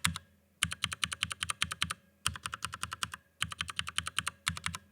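Fully lubed Cherry MX Brown mechanical keyboard switches, with no switch film, typed in quick bursts of about eight to ten close, crisp keystrokes each, separated by short pauses.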